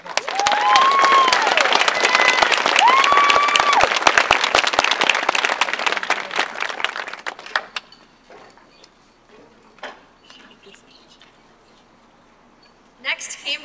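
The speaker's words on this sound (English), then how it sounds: "Let's give them another round of applause." Audience at a school graduation ceremony applauds loudly for about seven seconds, a dense wash of clapping with some whistles, then it cuts off abruptly into a quiet hall with scattered knocks and rustles before a brief burst of sound at the end.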